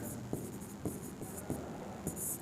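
Chalk taps and scratches across a board as a math equation is written, with short regular strokes about every half second, fairly close and faint, with no talking.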